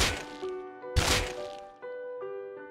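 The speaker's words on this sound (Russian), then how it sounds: "Стреляю, значит ты просто стоишь, все, 2 выстрела сделаю." In the video game Rust, M39 EMR rifle rounds strike a helmet: two sharp, loud cracks about a second apart, each followed by a ringing metallic tone, then a softer hit. No one speaks.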